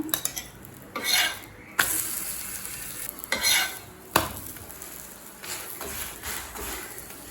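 A cheese chapati fries in oil on a pan, with a soft sizzle beneath repeated scraping and clattering strokes of a spatula, several sharp metallic knocks standing out.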